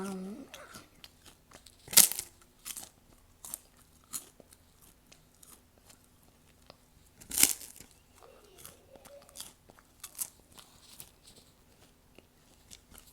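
Crunchy bites into puffed rice cake spread with Philadelphia cream cheese, two loud close crisp crunches standing out among softer chewing and small clicks, with brief quiet talk near the start.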